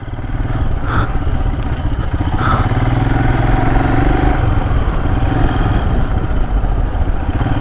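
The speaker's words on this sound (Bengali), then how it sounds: "সুজয় দা, এত ভারী বাইক, এত সুন্দর ব্যালেন্স আমার বাইকেও আমি পাই না।" A Royal Enfield Himalayan runs along a jungle trail in Joypur Forest, its engine a steady, loud, close thrum and clatter throughout, with no talking over it.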